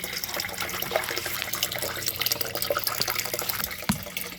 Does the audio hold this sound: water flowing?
yes